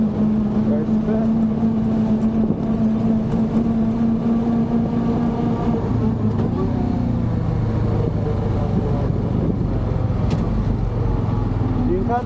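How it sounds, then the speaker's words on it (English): A Honda Pioneer 500 side-by-side engine drones while riding and pitch shifts as gears change, a steady loud motor hum with wind and rattle, heard under occasional talk. "You can hear when it shifts."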